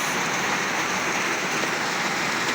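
Steady rain pours onto a tarp at a rural home, a dense, continuous hiss of drops drumming on the surface, close and loud throughout with no voices.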